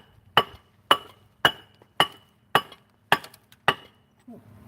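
Thick glass kombucha bottles are struck against a brick outdoors on a balcony, seven sharp, evenly spaced impacts with a ringing, clinking edge, fairly quiet and close.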